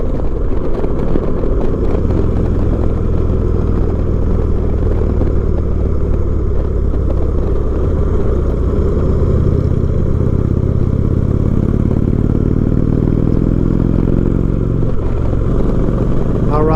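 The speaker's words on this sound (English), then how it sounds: "We're blessed with the opportunity of being able to ride our motorcycles year-round." An Indian motorcycle engine drones steadily at speed with wind rush, the pitch rising and shifting as it accelerates along a curving canyon road.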